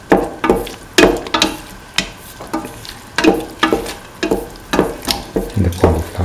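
Salt and green chillies stirred into a cooking pan for a curried cauliflower and split chickpea stew, producing rhythmic, close scraping and clattering strokes roughly twice a second over a light sizzle, with no talking.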